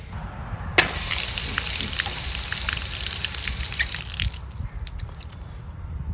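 Water bursts on and gushes steadily from an outdoor hose bib through a RainPoint wifi timer, a loud close hiss and splash that thins toward the end.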